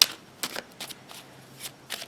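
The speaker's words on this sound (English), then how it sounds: "You can always fast forward the shuffling portion if you desire." Tarot cards are shuffled by hand in soft, quick riffling bursts. Several brief crisp flurries of card noise are spaced across a quiet background, close and fairly faint.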